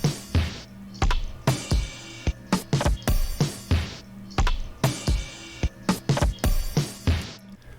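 MIDI percussion programmed in Ableton for a house track plays dry, clicky hits in an uneven, syncopated pattern, crisp and close with no other instruments.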